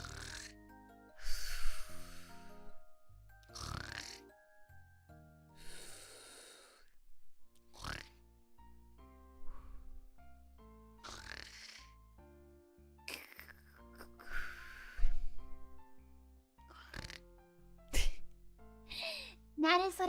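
A voice imitates a loud snorer, with a series of rough, snorting breaths repeated at irregular intervals and close to the listener, mixed with some voiced sounds.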